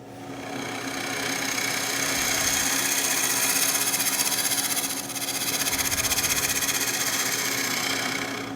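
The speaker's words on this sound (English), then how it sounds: "starting with the lathe speed a little low, so it's about 700, I'll bring it up now to 900." Wood lathe spinning at around 700 to 900 rpm while a table lamp is turned, a steady loud mechanical hum and whir with a rhythmic buzzing texture and a brief dip midway.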